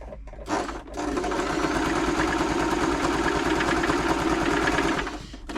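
Brother LS 2125 sewing machine stitching a zigzag pattern after a service, a close, steady rapid mechanical whirr with a fast clatter of the needle that runs continuously for about five seconds before winding down.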